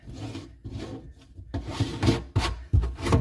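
Tightening a garbage disposal pipe fitting with a wrench produces bursts of scraping and grinding rubs, irregular strokes close by, louder toward the end with sharp scratchy attacks and no talk.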